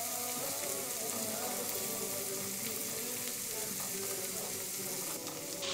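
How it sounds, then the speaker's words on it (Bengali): Three eggs fry in a little oil in a pan, giving a continuous close sizzle with light scraping, and a voice speaks faintly beneath it. "এখানে আমি এখানে সামান্য তেল দিয়ে আমি 3টি ডিম ভেজে নিচ্ছি"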